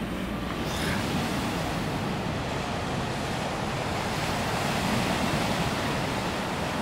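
Surf rolling onto a black volcanic sand beach in Tenerife, a steady broad wash of breaking waves mixed with wind buffeting the microphone, loud and continuous with no voices.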